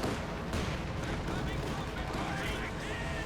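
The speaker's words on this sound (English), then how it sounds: "And an airstrike there from Stephenn again." An airstrike, artillery and gunfire in a Company of Heroes 2 battle merge into a dense, continuous, loud barrage throughout, with a commentator's voice mixed in.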